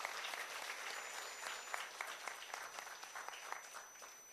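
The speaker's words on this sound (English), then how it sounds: "can we once again please have a huge round of applause for all the musicians" Audience applause for the musicians at a Kathak dance recital, a dense, steady wash of many hands clapping heard from a distance, moderately quiet, fading slightly toward the end.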